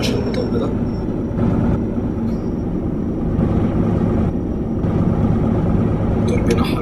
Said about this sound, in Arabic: الموتور بينحر مني بسبب ان انا على اسمها ايه دي عالية